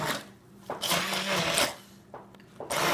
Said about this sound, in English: I take my stick blender and I kind of pulse it a little bit